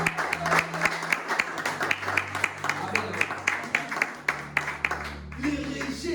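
A church congregation applauds during a sermon with rhythmic, fairly close clapping that rises and falls in quick pulses, while a voice carries on over it and the clapping thins out near the end.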